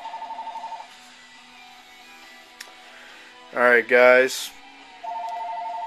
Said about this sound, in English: but my phone's ringing.